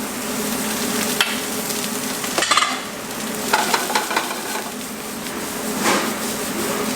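Rice stir-fried in a hot pan with ginger and garlic for Korean-style kimchi fried rice, a steady sizzle broken by scraping spatula strokes and occasional sharp clicks against the pan, close and continuous, with no talking.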